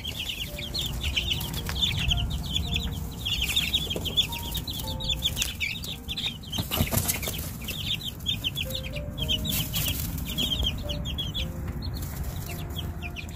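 Day-old duck and chicken chicks cheep constantly in a brooding house, a dense chorus of high peeping calls over a steady low hum.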